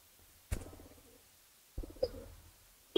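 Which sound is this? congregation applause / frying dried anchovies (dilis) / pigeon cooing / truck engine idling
pigeon cooing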